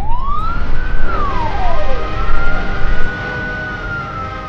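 A loud ambulance siren wails close by, sweeping up and down in a long, smooth tone before fading as the vehicle moves off, with traffic rumble underneath.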